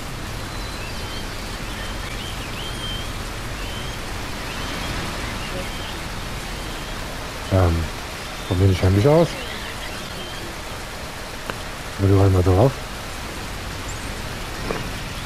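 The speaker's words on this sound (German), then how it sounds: "Das regnet aber schon die ganze Zeit gefühlt." Steady rain hisses in Fernbus Simulator, a coach-driving game on a route from Arnhem to Luxembourg, a constant close wash of drops that runs the whole time while someone speaks in short bursts over it.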